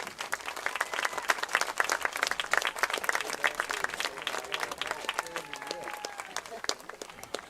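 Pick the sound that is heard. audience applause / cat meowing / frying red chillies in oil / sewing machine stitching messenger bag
audience applause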